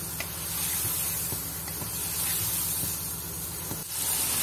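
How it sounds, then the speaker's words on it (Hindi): Chickpeas roasting in a pan with masala and black pepper give off a steady, soft sizzling hiss, continuous and close, with faint scrapes now and then. "और इसके साथ ये जो 1 टीस्पून काली मिर्च थी ये भी मैं ऐड करूँगी और हम इसको अच्छी तरह भूनेंगे तकरीबन 5 मिनट के लिए।"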